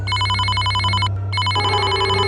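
A telephone bell rings in repeated bursts with a brief pause between, loud and close, over a steady low hum.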